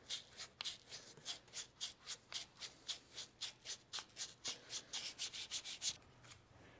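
Sandpaper wrapped around a form rubs back and forth over the curved radius of a handmade knife blade, a steady run of about thirty short, even scratchy strokes, close and alone.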